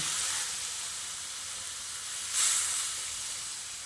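Hot water poured into a pan of taro and potato already cooked down with spices sets off a loud, steady sizzle and hiss that swells sharply midway, then settles back into a continuous fry.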